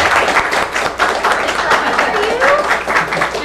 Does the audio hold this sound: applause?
yes